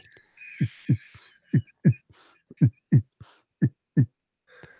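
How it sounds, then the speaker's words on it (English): Steady heartbeat heard through a stethoscope, deep low thumps in regular lub-dub pairs, close and clear, with faint soft background noise between beats. "He can hear your heart beating."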